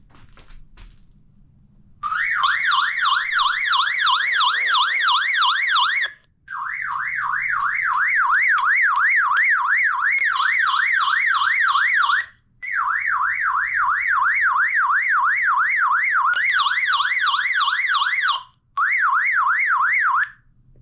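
Loud SOS siren from a budget four-pack walkie-talkie, a rapidly warbling electronic wail that runs in long bursts with brief gaps between them, alone with no talking.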